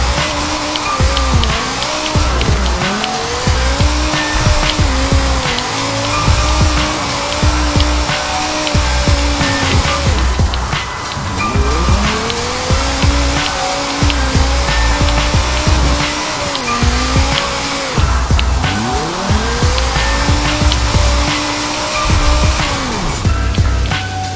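Forza Horizon 4 racing game car engine revving loud and constant, rising and falling through repeated gear shifts, with tire squeal during cornering, no talk over it.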